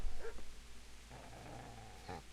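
Low, rumbling dog growls from Kingdom Come: Deliverance, with a couple of short yelps or barks near the start and again near the end, heard close over a faint background hum.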